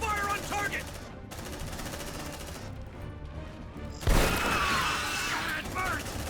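Squad weapons fire in Aliens: Dark Descent, dense bursts of automatic gunfire with a sharp louder volley partway through, mixed with shouted voices and game effects.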